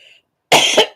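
A single harsh cough from a person with a lingering, persistent cough, close and loud, breaking out of near silence with a brief second push at its tail.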